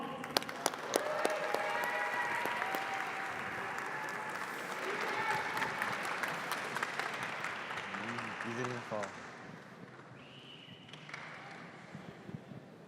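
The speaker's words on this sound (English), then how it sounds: "give a round of applause from Bryan Adams, Team Alone" Applause and crowd noise fill a high school auditorium as a student team is welcomed to present, steady clapping with cheers under an announcer's voice, fading toward the end.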